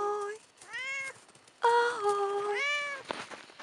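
A tomcat meows repeatedly and up close, with long, drawn-out, wavering cries separated by short pauses, loud and clear over a quiet room.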